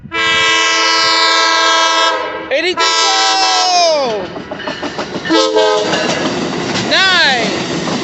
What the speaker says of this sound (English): I believe that was a horn salute